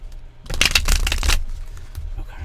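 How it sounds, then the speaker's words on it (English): A deck of tarot cards is shuffled by hand, a close, crisp riffling burst lasting about a second, followed by quieter rustling of the cards. "we'll just keep on shuffling until something wonderful pops out"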